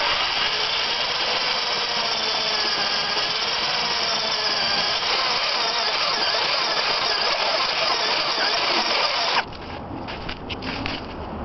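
A power drill with hardened bits bores slowly through the steel frame rail of a 1997 Ford Ranger 4x4, a loud, steady grinding whine that runs unbroken for about nine seconds, then drops sharply to a quieter, rougher tail.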